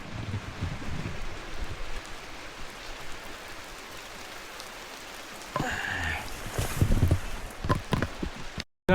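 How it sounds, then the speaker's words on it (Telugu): Rain patters steadily onto trees in a German forest, a soft continuous hiss that thickens into heavier bursts with a few dull thumps toward the end. "ఇగో మళ్ళీ స్టార్ట్ అయిపోయింది వాన."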